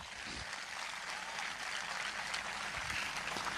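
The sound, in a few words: congregation applauding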